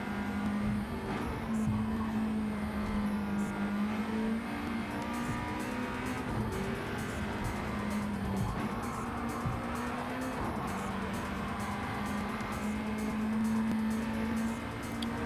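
A swapped naturally aspirated spec Honda Civic races in Gran Turismo 7, its engine holding a loud, sustained drone through the straights, with tire noise and other cars blending in throughout.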